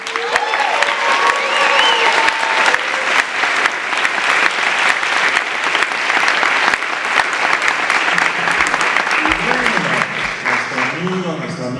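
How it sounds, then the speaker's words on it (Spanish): Audience applause at a Spanish-language panel discussion about Pedro Páramo, a dense, steady clapping from a full room that carries on for about eleven seconds before thinning slightly near the end. "Un aplauso para Isabel."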